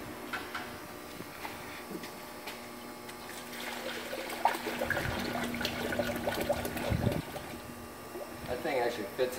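Water poured into the radiator of a 2010 Ford F150 being checked for overheating and a coolant leak, an irregular splashing and gurgling that grows busier midway, with someone talking over it.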